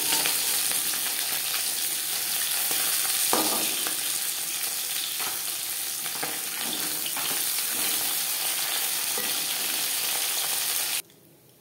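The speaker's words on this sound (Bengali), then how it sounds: "একইভাবে ভেজে নেব।" Small bata fish fry in oil in a pan with a steady, close sizzling hiss and occasional stirring knocks, and the sound stops abruptly just before the end.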